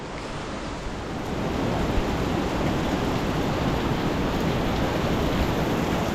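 A monsoon waterfall beside the Yamunotri trek path pours in a steady, full hissing roar that swells slightly after the first second and stays constant, with no talk.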